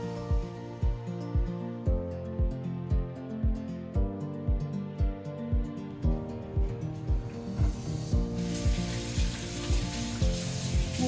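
Broken pieces of fish head fry in a pan for Bengali muri ghonto, a steady sizzle under a repeating rhythmic clatter of a ladle stirring and breaking the pieces.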